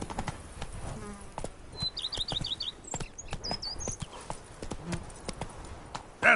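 Roach the horse's hooves clip-clop at a steady trot in The Witcher video game, even hoofbeats running throughout with faint bird chirps overhead.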